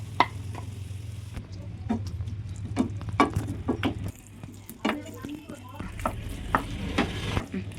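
Chunks of tapioca stirred into thick coconut milk in a cooking pot, with a run of soft scraping and clicking spoon strokes over a low steady simmering hum.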